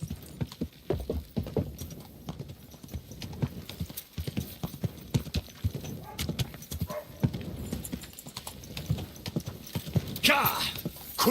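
Rhythmic hoofbeats of a horse in Kingdom Come Deliverance 2 clip-clop steadily throughout, with an occasional whinny and brief voices mixed in over the galloping.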